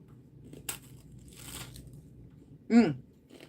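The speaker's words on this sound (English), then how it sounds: "Nice crunch." A crunchy chocolate-topped snack, 100 calories for two pieces, gets bitten into once near the end with a sharp, close crunch, after quieter faint rustling and crinkling.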